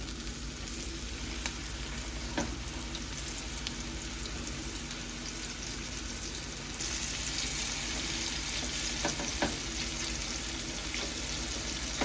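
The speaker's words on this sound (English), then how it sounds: "My oil is hot. So I'll put my pork chop in there." Pork chop sizzling steadily in hot oil in a pan, a continuous crackling fry at close range that grows slightly louder partway through, with scattered pops and no talking.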